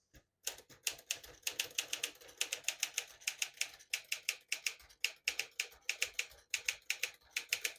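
A 1956 Smith-Corona Silent-Super portable typewriter typing on the red half of its ribbon, steady crisp keystrokes in quick bursts, close and clear with no voices.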